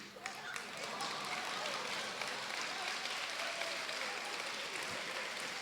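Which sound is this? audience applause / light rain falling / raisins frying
audience applause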